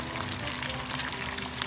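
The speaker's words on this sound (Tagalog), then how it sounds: "dyan na ako nag-prito mismo ng egg" An egg frying in a burnt clay pot for breakfast, giving a steady, close crackling sizzle with fine spitting pops that runs unbroken throughout, with no voices over it.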